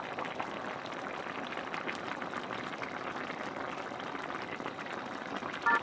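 Kimchi jjigae with tofu simmers in a pot, giving a faint, steady bubbling that runs evenly throughout.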